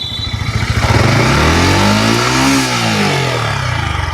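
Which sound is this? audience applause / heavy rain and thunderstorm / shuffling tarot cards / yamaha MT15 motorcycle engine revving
yamaha MT15 motorcycle engine revving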